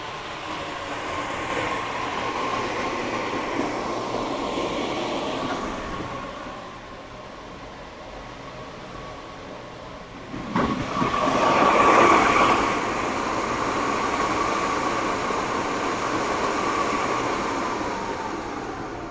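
PC server CPU cooler fans whir in a steady broadband rush that dips for a few seconds, then swells louder again, continuous with no talking.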